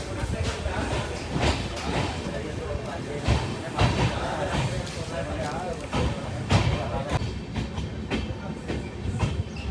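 Inside the 16206 Mysuru to Talguppa passenger train near Holenarasipura, with a steady loud rumble and repeated clickety-clack of wheels over rail joints, occasional clanks, and someone talking over it.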